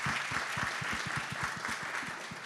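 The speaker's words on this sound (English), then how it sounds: "Let's give a round of applause." Audience applause for a corporate talk, a fairly faint, even wash of clapping from a crowd at some distance, steady throughout with no voices on top.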